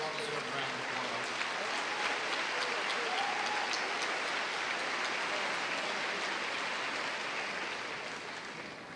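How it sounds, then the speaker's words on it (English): Audience applause at a high school commencement ceremony, a steady, dense wash of clapping from a large crowd that holds for most of the stretch and then begins to taper off near the end. "Please give them all a well-deserved round of applause."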